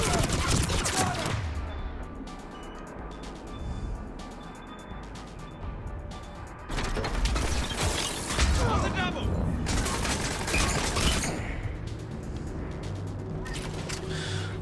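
Gunfire in Mass Effect 3 at the Citadel docks, with bursts of automatic fire and heavy shots that start, stop and return. A voice talks over parts of it.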